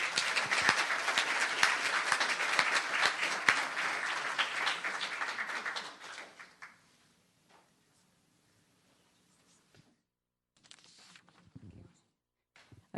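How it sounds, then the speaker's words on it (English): An audience at a town council meeting claps for Cooper, a dense, loud round of applause that fades after about six seconds into a quiet room with a few scattered knocks and shuffles. "And we can clap for Cooper while he's shaking hands."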